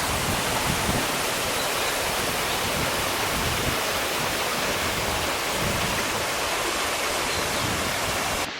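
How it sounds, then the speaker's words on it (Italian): Steady, loud rush of water flowing through a canyon in Veneto, a dense continuous roar like a stream or small waterfall heard up close, with no voices over it. "il rumore dell'acqua che scorre"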